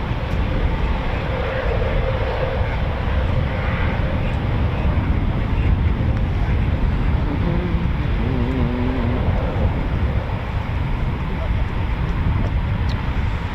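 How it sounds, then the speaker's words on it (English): Eurofighter Typhoon FGR4 jet taxiing out at RAF Coningsby, heard from a distance as a continuous broad engine roar and whine that holds steady throughout. "Plus, there's another Typhoon I can hear taxiing out."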